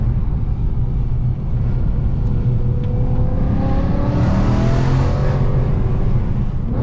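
A 449 bhp BMW M3 saloon engine accelerating hard in third gear rises in a steady, loud, building growl heard from inside the car, revs climbing throughout with no voices.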